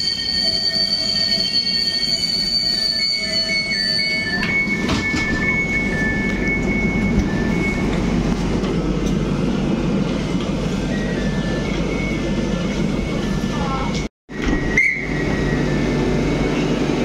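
Train rolls through Łowicz Główny station on a hot evening, its wheels squealing and rumbling steadily at close range. Sharp metallic screeches rise over continuous rail noise, briefly broken by a clunk near the end.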